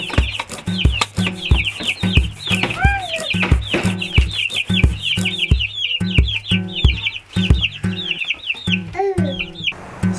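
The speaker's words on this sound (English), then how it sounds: "All chickens are out of the bus." Chickens cluck steadily and close by, in overlapping bursts, with a few higher squawks mixed in. No voices.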